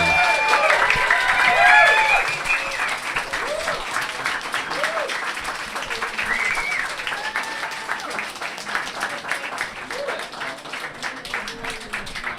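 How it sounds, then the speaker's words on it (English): Applause and cheering from the audience at a radio-hosted live event, a dense wash of clapping with some whoops, loudest at the start and then easing into a steady patter as voices mingle in the crowd. "Big round of applause for Tom and Christian."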